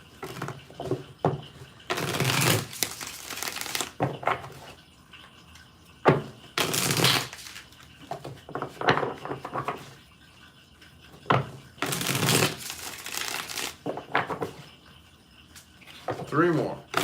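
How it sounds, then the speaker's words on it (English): Tarot cards being shuffled for a mini reading, six shuffles in bursts of riffling and rustling spread across the clip, close and fairly loud, with a voice speaking briefly between them. "6 shuffles."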